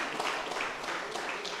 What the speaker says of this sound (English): Round of applause, fellas.